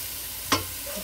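Vegetables frying in a pan, a steady close sizzle with one sharp clink or scrape of a utensil midway and no talk.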